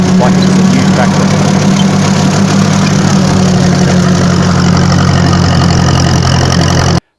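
Ferguson TEA20 tractor engine runs steadily while slashing grass, a loud, constant low droning hum with a knocking edge that holds unbroken until it cuts off abruptly at the end.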